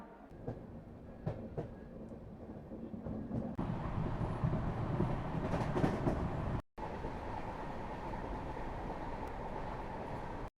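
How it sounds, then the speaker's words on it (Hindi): Arunachal Express passenger train arriving at a station, a sustained loud rumble of wheels and carriages with rail clatter that builds and holds, briefly cut off, then continues steadily. "फाइनली इतने वेट के बाद 1 घंटे लेट से हमारी ट्रेन पहुंच चुकी है।"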